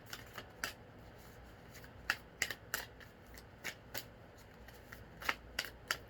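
Tarot cards being shuffled, a series of quiet crisp flicks and riffles in irregular bursts, close by and soft, with no talking.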